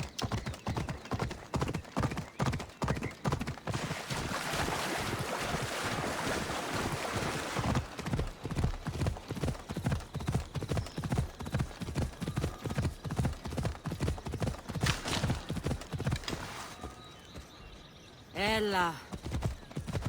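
Steady, rapid hoofbeats of the horse Phobos galloping in Assassin's Creed Odyssey drum through most of the run, with wind rushing past. A voice speaks briefly near the end.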